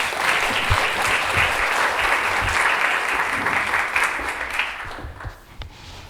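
A theater audience at a play reading claps steadily and fairly loudly for several seconds, then the applause thins into a few scattered claps at the end.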